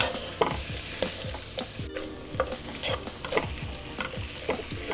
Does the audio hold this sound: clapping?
no